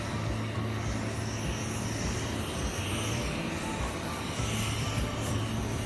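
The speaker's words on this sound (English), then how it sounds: "This is my son's helicopters over here." A continuous helicopter engine drone aboard the aircraft carrier USS John C. Stennis fills the whole clip, steady and fairly loud with a low rumbling throb, and no voices over it.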